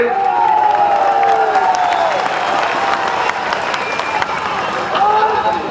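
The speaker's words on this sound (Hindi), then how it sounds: "सब जनप्रतिनिधि को एक बार ताली बजा करके आप लोग अभिनंदन कर दीजिए" A large outdoor crowd at a 2013 foundation-stone ceremony during the Chief Minister's Seva Yatra in Katihar gives dense, sustained applause, mixed with voices and cheering.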